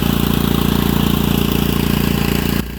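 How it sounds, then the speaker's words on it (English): A portable generator runs beside a bulldozer's tracks in a farm field, supplying power for welding repairs. Its loud, steady engine drone with an even pulsing hum continues close by, then drops off abruptly near the end. "We fire up our portable generator right next to the tracks to get the necessary power out to the"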